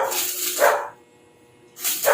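Two sharp barks from a Labrador separated by a short pause, close and fairly loud against a quiet background.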